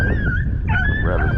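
Hunting dogs on a rabbit hunt give close, loud whimpering yips and short whining cries, a brief burst of excited canine vocalizing with no talk.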